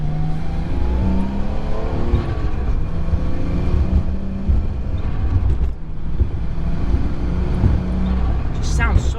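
An R32 Nissan Skyline GTS-t sedan engine runs steadily with a throaty exhaust note, rising and settling through revs, loud and close, with faint talking underneath.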